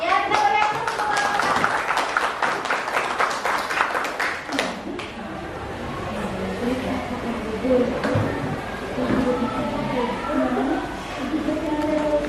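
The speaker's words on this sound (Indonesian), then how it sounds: "Ya, kita berikan tepuk tangan." A small audience claps at a mathematics teaching session, a few seconds of brisk scattered applause that stops and gives way to people talking.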